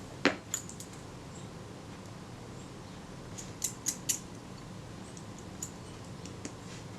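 Small clicks and ticks from a Kodak Retina camera mechanism being worked during repair, a few sharp close snaps spaced unevenly over a quiet background.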